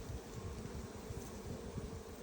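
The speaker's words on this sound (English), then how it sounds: "That is a box of bees. There are bees in every seam." Honeybees in an open hive box packed with ten frames, with bees in every seam, buzzing as a steady, close hum with no talk over it.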